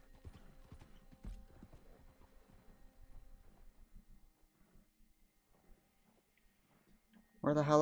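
Horse hooves clip-clop steadily in the Red Dead Redemption 2 video game, a quick trotting rhythm at close range that thins out and fades before a voice cuts in at the end.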